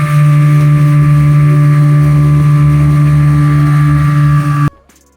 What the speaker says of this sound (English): Listen to the speed of the boat.